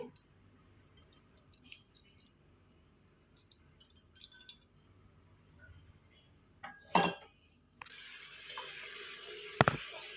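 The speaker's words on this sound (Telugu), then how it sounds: "దీనిలోనికి ఈ బెల్లం వాటర్ పోసేసుకోవాలి" Jaggery water poured into a pan on a stove for ragi thopa, heard as a quiet kitchen with light clinks, then a brief splash and a sustained hiss of liquid hitting the hot pan, close by.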